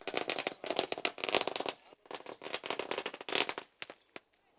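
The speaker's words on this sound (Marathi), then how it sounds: "फटाके लावल्यानंतर" Dense rapid crackling of firecrackers going off in bursts, loud and continuous, trailing into a few scattered pops before falling quiet.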